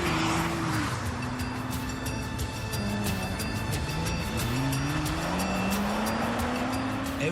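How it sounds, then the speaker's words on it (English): Nissan Skyline GT-R cars thrashed around a test track, engines revving continuously with rising and falling pitch as they accelerate and shift, loud and close with steady road and wind noise throughout. "Every day and night, a team of 10 test drivers thrash 25 GTRs around this test track."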